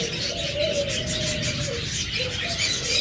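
Forpus parrotlets in a cage, a breeding pair near the egg-laying stage, give soft coos and thin whistled calls over steady room noise, with a few drawn-out tonal notes that rise and fall through a short stretch.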